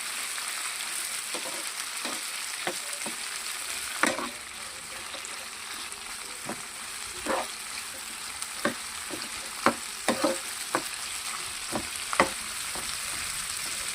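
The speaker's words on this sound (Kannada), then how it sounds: "ಈಗ ಇದನ್ನು ಸ್ವಲ್ಪ ನಾನು ಫ್ರೈ ಮಾಡ್ಕೊಳ್ತೀನಿ." Chopped tomatoes fry in a pan with a soft, continuous sizzle, broken by repeated scraping clicks of a spoon stirring at an irregular rhythm, close and fairly quiet.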